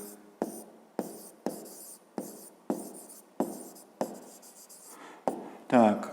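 A pen writing by hand on paper during a fifth-grade math exercise: about eight short, close scratchy strokes in a steady rhythm, ending with a brief louder burst.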